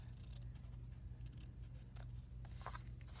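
Scissors trimming the corners of paper for an accordion journal, a few quiet snips over a steady low hum, faint and close, with no speech.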